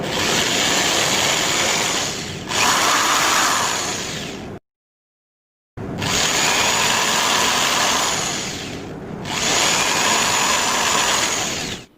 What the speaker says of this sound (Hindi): अब 1 इंटू 2 इंच के जो 2 MDF बोर्ड के टुकड़े हैं उन पे इस प्रकार से ड्रिल मशीन के द्वारा छेद करेंगे।